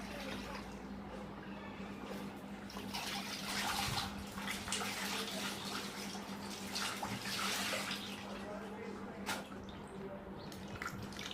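Water is poured over a person's head during bathing, giving a steady splashing wash of water throughout, with no talking.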